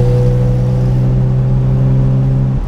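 A 1971 Mercedes 250 CE coupé engine pulls steadily while driving, a loud, close, sustained mid-pitched drone with a constant hum and no talking.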